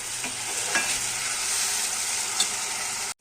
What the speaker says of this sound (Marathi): हे परतून घेऊया.